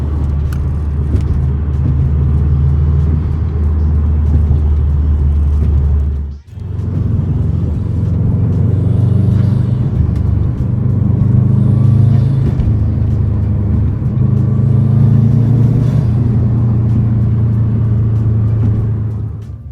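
A truck engine idles and revs, heard from inside the cab as a loud, steady low rumble with gentle swells in pitch and a brief dip near the start.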